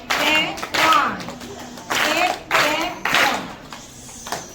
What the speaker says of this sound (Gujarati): આપણે પણ એમનું 3 તાળીથી આપણે માન આપીએ